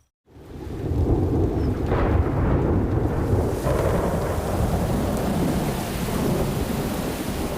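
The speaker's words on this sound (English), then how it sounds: "the November rains soak the parched ground" A heavy thunderstorm of the November rains breaks over dry, parched ground, a loud continuous roar of pouring rain and rolling thunder building from silence and sustained throughout.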